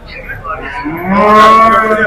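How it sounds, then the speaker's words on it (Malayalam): A single loud, close cow moo at a livestock market, rising and swelling toward the end, with no talking. "പശുക്കളാണ്"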